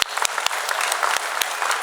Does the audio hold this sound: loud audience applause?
yes